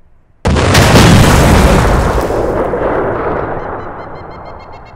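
A loud, sudden explosion in the Arma 2 military video game bursts in sharply, then its deep boom rolls and decays slowly over several seconds.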